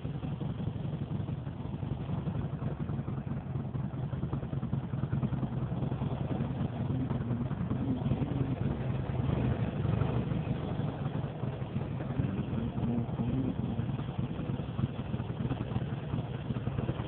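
Motorcycle engine runs steadily for the whole stretch, a continuous low, throbbing mid-pitched drone at moderate level with no talking over it.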